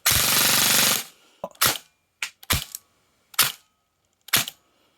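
An airsoft gun firing on full auto: a loud, continuous buzzing burst of rapid shots for about a second, then several short, sharp bursts spaced apart.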